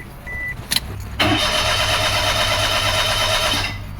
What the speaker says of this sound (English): I came here to start the car so I can put up the windows